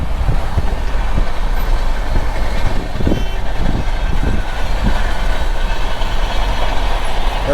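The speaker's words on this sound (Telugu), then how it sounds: "చూడొచ్చు ట్రైన్ అయితే రైట్ సైడ్లో" Chennai Central Express train running alongside a moving vehicle near Upparapalli, a steady loud rumble with rhythmic clattering thumps through the middle, continuous and close without any talking.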